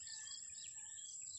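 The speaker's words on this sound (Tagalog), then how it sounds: "Saka marinig dito mga ibon lang eh." Faint high chirps and trills of birds in the mountains carry over a quiet outdoor background, steady and distant with no voices.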